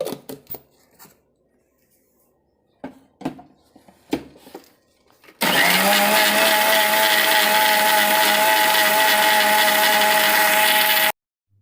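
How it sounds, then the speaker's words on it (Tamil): A blender grinds bael fruit with water, a loud, steady motor whir running for about six seconds after a few brief knocks and clatters, then cutting off abruptly. "தண்ணி சேர்த்துட்டு இப்போ நம்ம அரைச்சிக்கலாம்"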